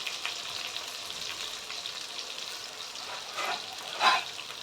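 Chopped onions fry in a pan until brown, giving a steady close sizzle with soft stirring scrapes and a brief louder hiss near the end, no voices.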